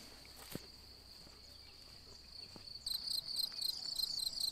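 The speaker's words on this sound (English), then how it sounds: "Look at these crickets." Crickets chirp on a farm in Portugal with a steady high trill throughout. Halfway through, a burst of rapid pulsed chirps joins in, along with a few soft thumps.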